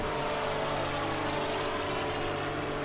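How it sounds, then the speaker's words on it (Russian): An airplane flies past in the racing game Need for Speed Hot Pursuit, a steady loud engine drone with a broad roaring wash that holds throughout the short stretch, with no talk. "Это что там, самолет?"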